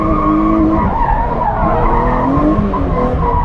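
A drift car skids on the track, tires squealing continuously and loudly for a few seconds as the engine drones underneath.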